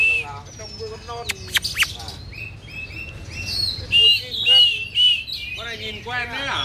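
A caged oriental magpie-robin sings in bright, varied whistled phrases and chirps, some loud and close, with pauses between bursts over a low background murmur.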